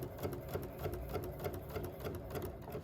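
A sewing machine stitches a straight quarter-inch seam on a 1930s-style quilt sampler block, running steadily with a fast, even rhythmic clatter that is close and continuous throughout.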